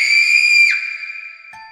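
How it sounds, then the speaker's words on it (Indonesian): A loud, piercing scream fills a room in a horror tale, a single sustained shriek that slides downward and then fades out. "sebuah jeritan nyaring memenuhi ruangan"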